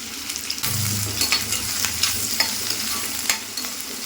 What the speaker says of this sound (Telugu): ముందైతే ఫ్రైడ్ ఆనియన్స్ వేపేస్తున్నాను